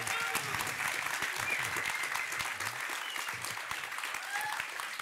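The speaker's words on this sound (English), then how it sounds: "If you can have a round of applause." An audience at a Reboot Food event in Stockholm applauds guest George Monbiot, a thick, even wash of clapping lasting the whole stretch with faint crowd murmur underneath.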